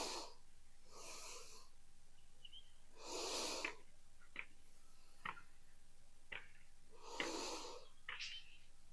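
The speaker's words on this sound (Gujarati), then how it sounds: "3 વખત ઊંડા શ્વાસ ભરો અને છોડો" Deep breaths drawn in and let out during a yoga stretch in a cat-pose sequence, heard as three or four breathy whooshes spaced a couple of seconds apart, close and fairly quiet, with faint clicks between them.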